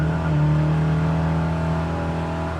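A 1970 Chevelle SS dropped into first gear, its engine roaring loud and close with a steady, strong harmonic drone that rises slightly before easing.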